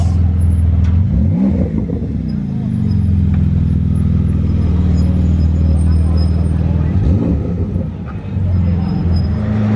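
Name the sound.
sports car engine revving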